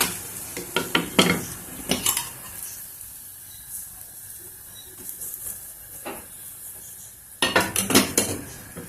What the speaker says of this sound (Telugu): కొంచెం ఇట్లా తిప్పుకుంటూ కాల్చుకోండి చపాతీని